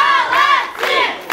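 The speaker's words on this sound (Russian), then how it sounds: "ваши аплодисменты, очаровашки." A children's dance contest audience roars with cheering and shouting, a dense crowd sound that swells and dips over a short moment.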